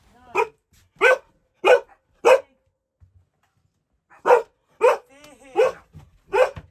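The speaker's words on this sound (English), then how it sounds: "that is a Bernese mountain dog collie cross" A Bernese mountain dog collie cross puppy, part grown and large, barks repeatedly nearby, four sharp barks, a pause, then four more in a steady rhythm, loud and clear against a quiet room.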